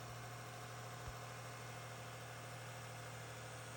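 A used first-generation Toyota Tacoma engine with about 130k miles idles high on its first startup after an engine swap: a steady, even droning hum with no breaks.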